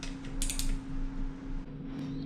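Bolts on the bottom end of a Honda CRF150RB motorcycle engine are tightened with a wrench, giving close, faint ratcheting clicks and creaks over a low steady hum.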